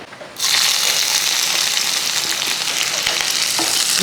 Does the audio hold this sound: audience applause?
no